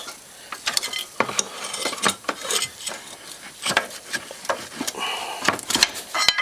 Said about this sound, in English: pull forward on the diff here a little bit with a crowbar